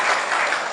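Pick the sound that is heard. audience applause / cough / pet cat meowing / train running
audience applause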